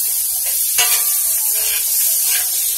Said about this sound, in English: I'm going to let this fry